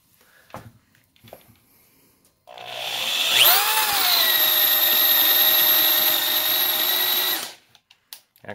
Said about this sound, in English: So this is the DeWalt auger.